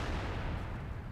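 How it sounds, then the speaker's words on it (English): Artillery fire in the tank video game World of Tanks: a brief, heavy, rumbling boom that fills the short moment, loud and dense at low pitch. "Okay, artillery has missed."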